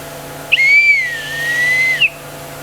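A single shrill blast from a metal whistle with a fault, lasting about a second and a half, its pitch wavering and sagging slightly, thin and breathy rather than clean.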